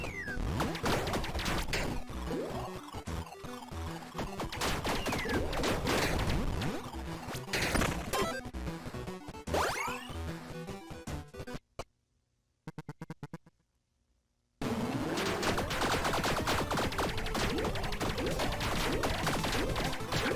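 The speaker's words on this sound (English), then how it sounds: "hearing that much like burn and bleed ticking plus the explosions" Dense Tiny Rogues combat sounds, with rapid burn and bleed ticking and repeated crashing explosions over music, loud and continuous apart from a brief near-silent gap with a few clicks midway.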